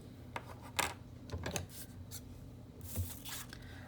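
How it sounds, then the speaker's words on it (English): Quiet snips and rustles of scissors cutting out a paper picture, a few irregular cuts close by with soft handling noises between them. "I like to start my cutting by cutting out a rough image."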